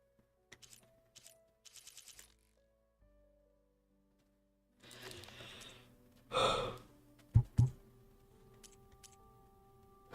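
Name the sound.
yawning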